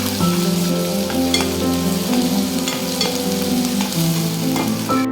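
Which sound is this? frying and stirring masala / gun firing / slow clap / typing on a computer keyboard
frying and stirring masala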